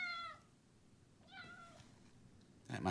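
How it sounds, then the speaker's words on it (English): A cat meows twice, faint and somewhat distant, with clear tonal cries separated by a quiet gap, followed by a brief louder rustling noise at the end. "That must be the cat."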